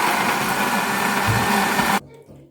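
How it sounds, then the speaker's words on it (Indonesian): A blender whirs loudly and steadily as it purees red chilies and bird's eye chilies with water, running for about two seconds before cutting off abruptly. "Oke, kita blender."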